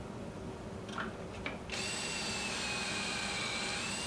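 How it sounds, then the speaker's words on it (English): A power drill drives pocket screws into wood for a scrap-built shop jig: a few soft clicks and taps, then a sustained, close, high-pitched whining drill run that continues to the end. "So I'll add these pocket screws in, then we're almost ready to start glue up."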